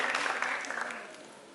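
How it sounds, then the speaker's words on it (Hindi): Audience applause in an auditorium welcoming a guest onto the stage at a formal public function, a dense steady clatter of many hands that fades gradually over a second and a half. "एक बार जोरदार ताली बजाकर हम पराग जी का स्वागत करें मंच पर"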